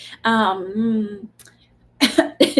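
A person coughs and clears their throat close by, a strained voiced hack followed by a couple of short rough bursts.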